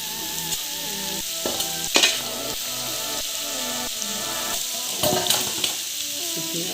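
A jackfruit mixture fries and is stirred in a pan, giving a continuous sizzling hiss with intermittent scraping stirs and a few louder clatters, no voices.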